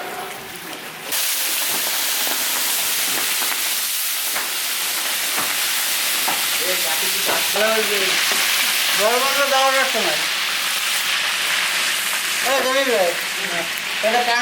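Frying food in large pots for village wedding cooking: a loud, continuous sizzle and hiss of hot oil that runs unbroken, with stirring scrapes and a voice sounding over it.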